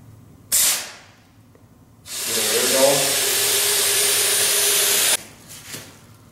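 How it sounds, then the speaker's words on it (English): Compressed-air spray gun applying Norton S4 sprayable seam sealer: a brief hiss, a pause, then a loud steady hissing spray lasting about three seconds, close and continuous, ending abruptly. "you're going to spray the material"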